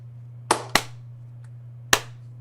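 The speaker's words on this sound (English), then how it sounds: "I can't time my claps." Three sharp, close hand claps ring out with uneven timing, two in quick succession and a third after a pause, over a low, steady electrical hum.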